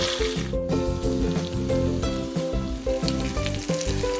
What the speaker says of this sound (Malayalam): നമുക്കിതൊന്ന് ഷാലോ ഫ്രൈ ചെയ്യാം.